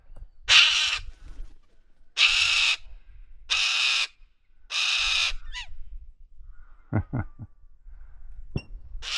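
A bird in the Australian Outback near Birdsville lets out four loud, harsh squawks spaced a couple of seconds apart, followed by a few sharp clicks and chirps against quiet outdoor background noise.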